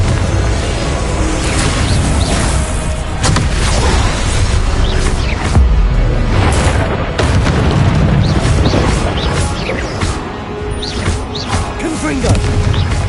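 Fiery Confringo spell blasts from Hogwarts Legacy gameplay, a dense, continuous barrage of booming explosions and crashing impacts layered over game music and effects, loud and sustained throughout.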